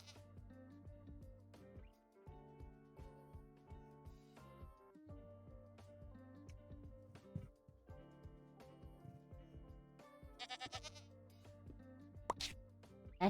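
Minecraft goat bleats in short nasal calls scattered among game sound effects and clicks, mostly at moderate volume, with a louder cluster near the end and no talking.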